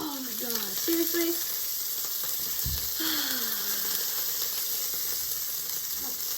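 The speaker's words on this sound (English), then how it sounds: "now it's sauteed in fish oil from the sardines" Sardine quesadilla sizzling in sardine fish oil in a pan, with a steady frying hiss running throughout and voices talking intermittently over it.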